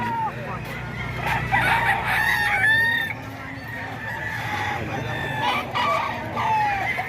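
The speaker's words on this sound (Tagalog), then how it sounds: "Malaking manok to man. Mga kaidol, malaking manok to." A large rooster crows loudly and close by, with clucking from other fowl and people talking at the same time.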